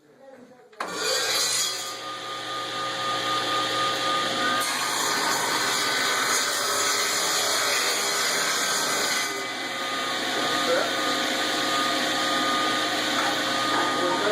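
A table saw rips thin quarter-inch wood strips for a Scrabble board, its steady loud whine starting abruptly and running continuously, with a brief dip partway through as the cut proceeds.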